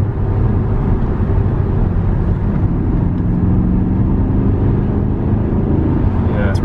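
A BMW M5 engine accelerates in gear, a loud steady low rumble droning throughout without a break, with people talking over it inside the car.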